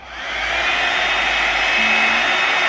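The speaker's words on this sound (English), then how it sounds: "It's like a hairdryer. Out of here blows hot air and this brush moves around." A Babyliss Big Hair rotating hot air brush whirs continuously close by, a hair dryer-like rush of air with a faint motor whine.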